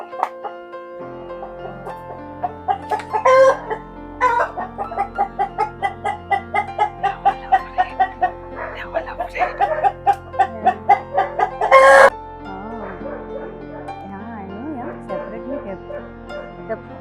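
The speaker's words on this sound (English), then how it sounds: "Here we have two sections, one for the cockerels." Cockerels and hens cluck in a busy run of rapid, rhythmic calls inside a chicken coop in Goa, close and loud, with a sharp squawk near the end and voices talking over them.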